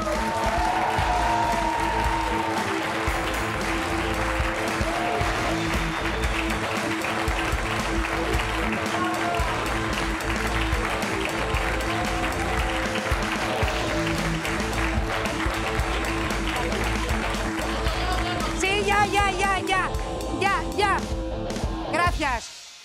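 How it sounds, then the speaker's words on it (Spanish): Studio audience applause for actress Candela Peña arriving on the late-night TV show La Resistencia, a steady, dense wash of clapping with band music and voices mixed in, carrying for about twenty seconds before cutting off. "Pide un aplauso para Candela Peña."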